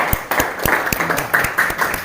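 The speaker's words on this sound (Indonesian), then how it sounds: "Tepuk tangan dulu." Classroom students clap together in a short burst of sharp, rhythmic claps, fairly close and loud, with faint voices mixed in.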